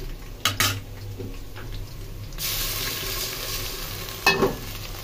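Ginger garlic paste hitting frying onions in oil, with metal pan clatter and scraping early, then a surge of loud steady sizzle and another stir near the end.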